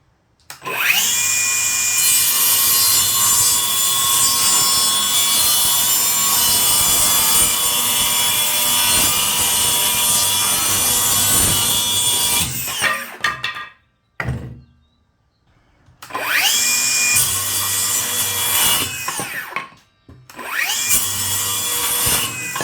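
A Milwaukee 2930-20 rear handle saw cutting wood, loud and close, with a long sustained whining cut, brief stops and restarts near the end.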